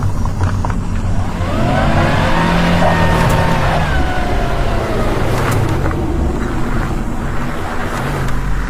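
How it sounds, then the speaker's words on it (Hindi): A car engine hums steadily and rises into a smooth acceleration as the vehicle pulls away, loud and close under a continuous rushing noise. "दोनों उस गाड़ी के अंदर जाकर बैठ जाती हैं। गाड़ी चलने लगती है।"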